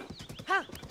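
A horse in Tears of the Kingdom gives one clear, harmonic neigh in the middle of a steady run of clip-clopping hooves.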